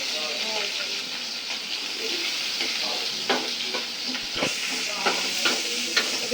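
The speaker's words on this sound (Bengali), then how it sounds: "এখন চিংড়ি মাছগুলো দিয়ে দিতেছে।" Large village prawns frying in a pan over already fried onions: a steady close sizzle with occasional stirring scrapes and bubbling pops throughout.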